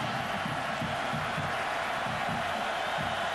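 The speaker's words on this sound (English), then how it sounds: "the defense a definite advantage with this crowd noise" Steady, dense stadium crowd roar at a 2005 college football game between Miami and Virginia Tech, a loud continuous wash of voices with low rhythmic pulses underneath.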